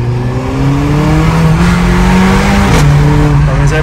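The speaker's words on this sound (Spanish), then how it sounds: "cuando uno lo tiene en segunda, es cuando más pops hace en la parte de atrás" A 2018 Mercedes-AMG GLA 45 SUV revs and pulls hard in second gear, its engine note rising and falling loudly with crackling exhaust pops from the rear, recorded close up throughout.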